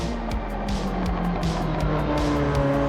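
A Ferrari F40 race car running flat out toward the finish line in a racing game, its engine a loud, steady, close drone that climbs through repeated gear changes marked by brief dips.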